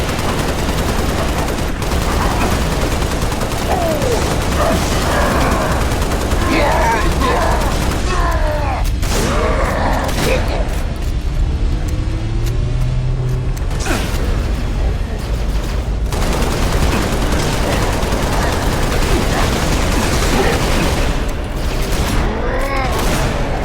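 Dense Halo game gunfire, with rapid weapon bursts, shotgun blasts and booms over a loud, continuous battle mix. Game voices call out now and then over the shooting.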